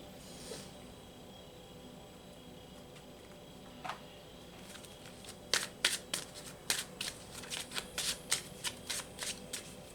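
Tarot cards being shuffled up close: a soft riffle near the start, then a run of sharp, quick card slaps and flutters in irregular bursts through the second half, with no talking.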